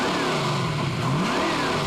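A Chevy drag car with a 582 big block Dart motor and Dart heads revs loudly at close range, its engine pitch sweeping down and back up in one continuous roar.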